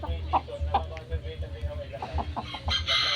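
Several chickens cluck in quick bursts close by, with a rooster crowing near the end over a noisy farmyard background.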